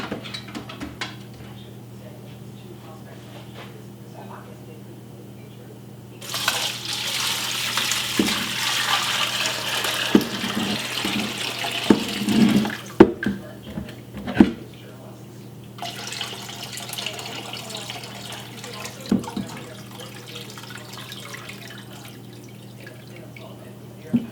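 Turkey broth from a roasted carcass strained from the pot, a burst of pouring liquid starting partway through with splashes and drips, steady running then tapering off, close by with no talk.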